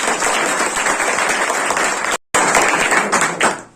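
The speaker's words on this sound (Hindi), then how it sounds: "ताली बजा दीजिए" Loud, steady applause from an audience fills the clip, dense clapping with a brief cut in the middle before it resumes.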